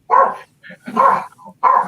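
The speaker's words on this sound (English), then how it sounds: "The dog barking." A dog barks in three loud, close bursts of a few barks each, with short quiet gaps between them, in a home where someone has just arrived at the door.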